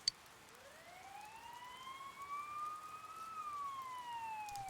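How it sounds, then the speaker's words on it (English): A distant siren in a video game wails in a slow rising and falling sweep, fairly faint and steady, with a soft click at the very start. "You hear sirens nearby."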